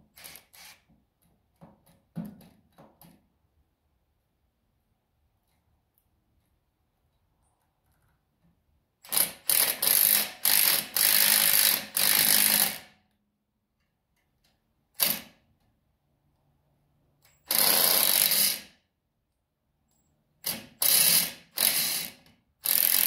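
Ratchet wrench working a rust-stuck bolt loose on a Ford 7610 diesel tractor: several loud bursts of rapid clicking, one long run of about four seconds then shorter spurts, separated by quiet pauses, with no talk.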